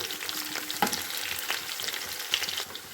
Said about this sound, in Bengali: দেখুন পেঁয়াজগুলোকে আমি প্রথমে সুন্দর করে ভেজে নিচ্ছি